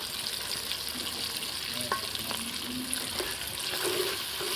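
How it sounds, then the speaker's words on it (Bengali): Pea curry with red chili powder stir-fries in a pan, giving a steady close sizzle and hiss with light scraping from stirring throughout, and no voices. "দিয়ে আর একটুখানি নাড়াচাড়া করে কষিয়ে নেব"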